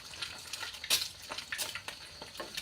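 Fried egg cooking in hot oil in a pan: a steady close sizzle and crackle, with frequent small pops and spatters.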